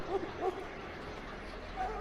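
A few short barks from a Mabari war hound in Dragon Age: Origins, two quick yips near the start and another near the end, moderately loud over a low background rumble.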